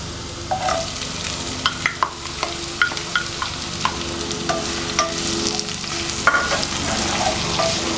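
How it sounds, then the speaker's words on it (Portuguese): Garlic and onion frying in a pan with oil, stirred now and then, for a baked salt cod and potato dish; a steady sizzle carries on throughout, broken by repeated light clicks and scrapes of a utensil against the pan. "O alho já deu aqui uma leve fritadinha. Vamos introduzir a cebola."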